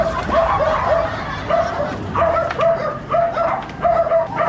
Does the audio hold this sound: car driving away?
no